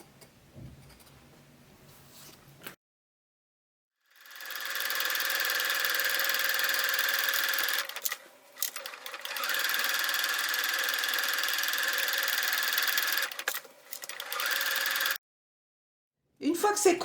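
A sewing machine runs in two long continuous stretches while stitching fabric for a school pencil case, with a steady whirring hum and a brief pause between runs, after quiet stretches at the start and end.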